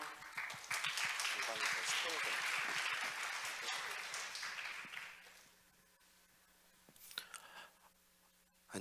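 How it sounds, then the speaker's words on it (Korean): An audience applauds to welcome a speaker at the YLF Jeju 2024 opening ceremony, with dense, sustained clapping for about five seconds before it fades into a quiet hall with a few faint noises. "박수로 청해 듣겠습니다"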